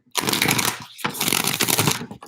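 A deck of cards is riffle-shuffled twice in a row, each pass a dense, close fluttering burst with a brief pause between them.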